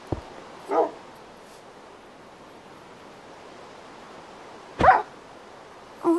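A dog in the Minecraft video game, with a few short, separate whimpering yips and barks spaced seconds apart over a quiet background hiss.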